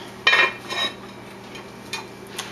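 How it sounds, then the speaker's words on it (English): A metal lid clatters onto a pot of simmering chili with a close, bright rattle. Two faint small taps follow over a quiet kitchen hum. "And then you can put the lid on and just let it simmer for a while."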